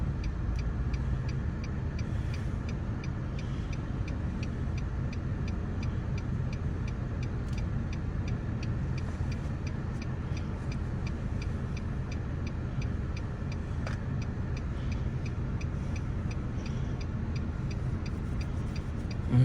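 A car on the road during a driving lesson gives a steady interior engine and road rumble, with a regular ticking like a turn signal running throughout.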